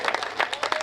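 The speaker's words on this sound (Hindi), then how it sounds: "आप लोग तालियां कम बजा रहे हो।" Brief burst of audience clapping at a Hindi comic poetry gathering, a scattered, moderately loud patter of hands lasting under a second.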